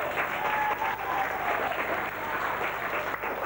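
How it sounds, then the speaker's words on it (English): Audience applause at a show fills the moment, a steady dense clatter of many hands clapping at close range for a few seconds, with a faint voice briefly heard underneath. "let's give them all a big round of applause."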